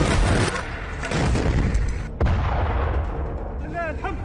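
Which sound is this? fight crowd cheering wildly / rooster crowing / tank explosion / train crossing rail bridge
tank explosion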